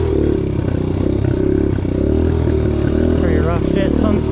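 A 2022 Suzuki DRZ125L dirt bike engine runs steadily on a test ride over rough, rooty ground. Its loud, close, low putter holds throughout, with clatter and a faint voice underneath.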